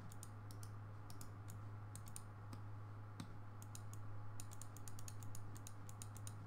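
A computer mouse is clicked rapidly and irregularly while RollerCoaster Tycoon 3 is being played. The close, faint clicks come in bursts over a steady low electrical hum.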